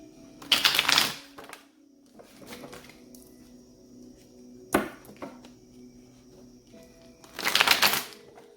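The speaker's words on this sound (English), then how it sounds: "Let's do two more shuffles" Tarot cards are riffled and shuffled in three quick bursts of crisp fluttering clatter, separated by quiet pauses, close by.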